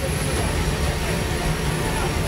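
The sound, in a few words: Hercules military transport aircraft in flight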